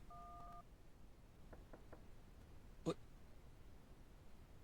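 Phone dialing tones in a horror video game: a few short, faint beeps in a quiet room, then a single louder tone burst, all over a low hiss.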